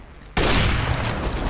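A single loud gunshot in the video game CS:GO strikes sharply after a short quiet lead-in, then rings out into a dense, sustained crackle of echo.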